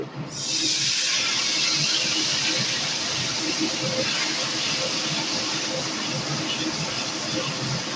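Pointed gourd (potol) frying in a pan with a ground paste of poppy seed and green chili plus turmeric, a steady loud hiss and sizzle that swells after the first half-second and holds evenly throughout.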